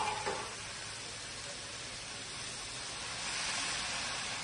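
Hot water poured into a pan of lentils, banana flower, potato and eggplant cooked with spices makes a quick splash, then a steady, fairly soft sizzle and hiss, no talk.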